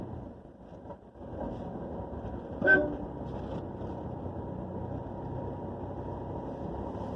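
A single short car horn toot at a hairpin bend sounds once over a steady engine rumble inside a Toyota Innova Crysta climbing uphill in first gear on the Masinagudi to Ooty road.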